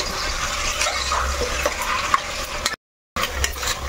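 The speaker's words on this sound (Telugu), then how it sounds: "ఇప్పుడు ఇందులో అల్లం పేస్ట్ వేసుకొని బాగా మగ్గబెట్టుకోవాలి." Chicken with ginger paste cooks in a pan for a curry, giving a steady broadband sizzle and stirring scrape throughout, with one brief gap of silence near the end.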